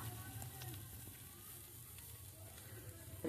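Tandoori chicken pieces frying in a pan, a steady, quiet hiss of sizzling oil throughout with a faint clatter at the very end.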